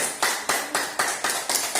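Children clap hands together in a classroom, a loud, steady rhythm of about eight sharp claps, evenly spaced and close, with no talking.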